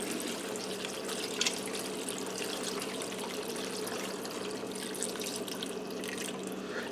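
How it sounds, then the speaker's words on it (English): Vegetable broth pours steadily from a carton into an Instant Pot, a soft continuous liquid splash and trickle at moderate level with no talking. "Now I have 8 cups of vegetable broth. We're going to get this down in here."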